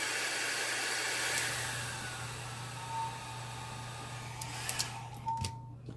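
A hair dryer blows steadily on alcohol ink layers, a faint continuous whirring hum at a distance with small knocks and clicks near the end, no voices.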